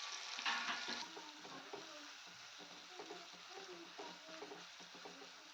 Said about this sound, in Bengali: সরিষার তেল দিয়ে তেলটা গরম হতে দিয়ে দেবো কুচিয়ে রাখা দুটো মিডিয়াম সাইজের পেঁয়াজ।